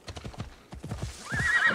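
A horse in Assassin's Creed Odyssey answers a call with rapid clip-clopping hooves, then a loud, drawn-out whinny that rises and holds near the end, close and clear with no talk over it.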